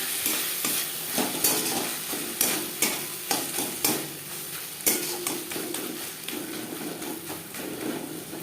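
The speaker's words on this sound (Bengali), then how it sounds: "কাঁচা গন্ধ যাওয়া পর্যন্ত নাড়াচাড়া করব" Onion, tomato, ginger and green chilli fry in a pan for a tilapia fish curry, stirred with rhythmic scraping clacks over a bright, steady sizzle, close up and without talk.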